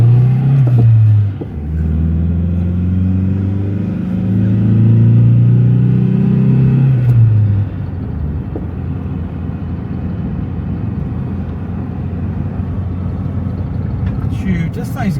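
A car engine drones steadily while driving, with a deep rising tone for several seconds that then gives way to a broad, even road rumble.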